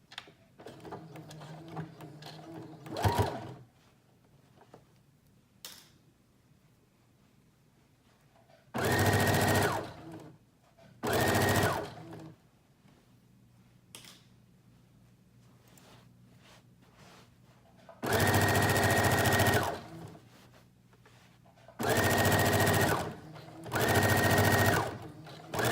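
A sewing machine stitches a seam on a teddy bear jacket in several loud bursts, one short, then a pair and a later cluster of longer runs, separated by quiet handling pauses with no talking.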